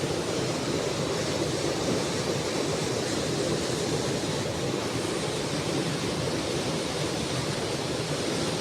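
Rainwater runs in a torrent during heavy rain: a dense, constant rushing roar with no breaks, close and fairly loud, no voices.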